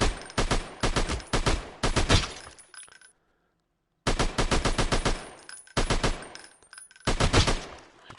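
Rapid bursts of automatic gunfire in the VR shooter Alvo VR, four loud close volleys of fast repeated shots separated by short silent gaps.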